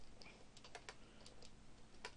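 Quiet, close computer keyboard typing: a short run of separate, irregular key clicks in a still room, with no voices.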